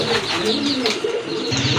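Pigeons for sale coo steadily in low, rolling murmurs over a dense bed of bird chirps, close and continuous.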